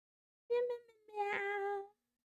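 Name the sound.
voice imitating cat meowing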